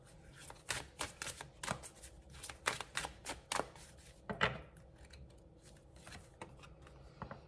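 Tarot cards being drawn from a deck and laid down, a series of soft papery flicks and taps in an irregular rhythm, close and fairly quiet.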